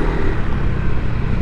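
Honda Click 125i scooter engine fitted with Ram Air, a loud close continuous rumbling drone at steady revs, heard alone.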